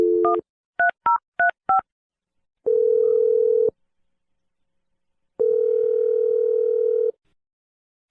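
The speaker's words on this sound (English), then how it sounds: "I'm going to dial her phone number right now" A phone keypad sounds a quick series of dual-tone beeps as a number is dialed, followed by two long, steady tones with a pause between them. The sounds are clear and isolated, with no voices.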